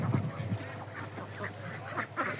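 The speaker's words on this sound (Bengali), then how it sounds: "এই যে আমাদের হাঁস" Khaki Campbell ducks kept for egg laying quack repeatedly nearby in a loose, uneven chorus, with harsh calls rising and falling over a low background hum.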